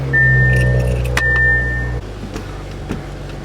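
Keys jangle beside an Audi S4 as it is unlocked, a close metallic rattle over a steady tone and low hum, which cuts out abruptly partway through and leaves faint clicks.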